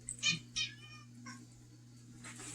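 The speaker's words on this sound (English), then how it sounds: "And there come the cats." House cats meowing indoors in a kitchen where raw dog food is being prepared, two clear close meows early followed by fainter mewing, with a low steady appliance hum underneath.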